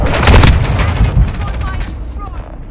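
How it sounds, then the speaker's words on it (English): A cruise missile explodes in a first-person shooter video game, a loud booming blast with rumbling debris that decays over a couple of seconds, with gunfire-like crackle mixed in. "Hostiles launched a cruise missile"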